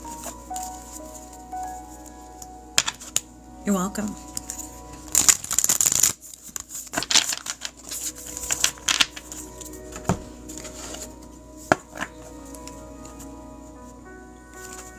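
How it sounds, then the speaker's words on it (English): A deck of reading cards shuffled by hand during a live session, heard as bursts of riffling and soft slapping, loudest in the middle, with quiet talk and a brief spoken reply. "Let me shuffle the cards."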